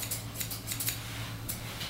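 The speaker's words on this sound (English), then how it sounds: "And then you take your scissors, and scissoring down," Grooming scissors snip repeatedly through a Pomeranian's coat during a breed trim, a quick irregular series of crisp metallic cuts, close and clear over a low steady background hum, with no talking.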